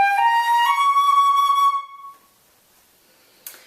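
An instrument plays a diminished seventh arpeggio from an all-state etude, a quick run of clear, bright, whistle-like pitched notes lasting under two seconds. A faint short noise follows after a pause.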